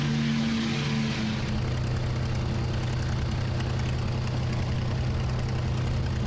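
A propeller plane from a wartime video game drones overhead, with a steady low engine hum and a broad, even roar that holds for several seconds without talk.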